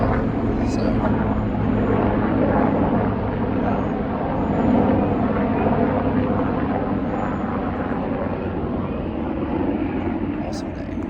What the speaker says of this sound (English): So the helicopters fly by all the time as well.